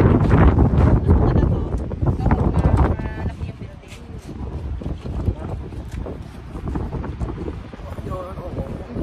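Strong gusts of wind buffet the microphone in loud, rumbling bursts at Glenelg, Australia, easing off partway through, with voices faintly underneath.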